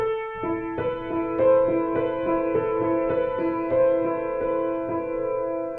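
Piano melody with a quick grace note leading into the opening tone, followed by a steady run of clear, ringing notes with sustained overtones, played alone without talk.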